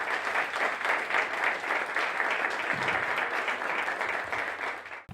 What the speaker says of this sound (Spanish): Yo la quiero recibir con un fortísimo aplauso